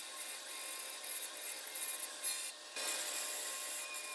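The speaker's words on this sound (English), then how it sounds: "And then straight over to the bandsaw and just cutting out." A bandsaw cuts a whale shape out of scrap wood, giving a steady high whine and continuous rasping bite of the blade through the board, loud and close with no talking.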